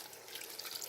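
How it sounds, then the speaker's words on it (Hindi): Water is poured into a cooking pot of chicken biryani base with tomatoes, giving a soft, faint, continuous splashing trickle that lasts about a second. "अब इस पर डालेंगे 1 कप पानी"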